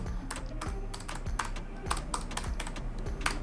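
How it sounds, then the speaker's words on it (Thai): Close, crisp typing on a Logitech G913 TKL mechanical-style gaming keyboard: irregular bursts of clicky keystrokes tapping quickly, some louder presses standing out. "อืมเหมือนคีย์บอร์ดคล้ายๆสไตล์แมคคานิคอลนะครับ"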